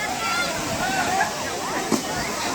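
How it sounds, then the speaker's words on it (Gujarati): Dam water pours as a waterfall near Kileshwar Mahadev temple in the Barda Hills wildlife sanctuary, making a steady, close roar of rushing and splashing water with a brief splash near the end. "ડેમમાંથી ઓલી બાજુથી પાણી આવે ને અહીંથી માં ધોધ પડે"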